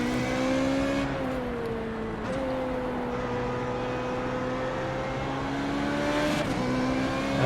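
Formula Renault 3.5 race car engine in the iRacing game, droning steadily at moderate revs with a few brief pitch dips and recoveries during a warm-up lap, close and continuous, no talking.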